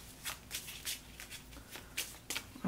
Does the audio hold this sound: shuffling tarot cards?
yes